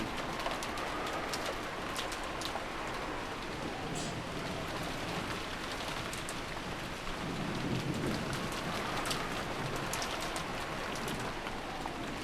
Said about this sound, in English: but disappeared behind the sound of the rain